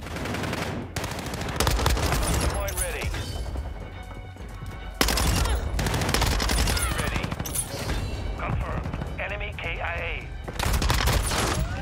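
A submachine gun, the Bizon, fires in a first-person shooter game: rapid, loud automatic bursts that run almost continuously, with brief gaps and overlapping crashes and impacts.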